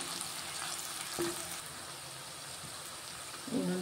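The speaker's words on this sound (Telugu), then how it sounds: "ఆనియన్ ఫ్రై అవుతున్నాయండి" Onions fry in a pan with a constant soft hiss, broken by a light tap around the middle and a brief metallic clink of a utensil near the end.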